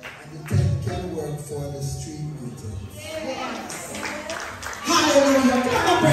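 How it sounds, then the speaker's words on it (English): Applause from a church congregation, uneven rounds of clapping that swell and fade alongside voices, then grow louder toward the end. "Clap the man"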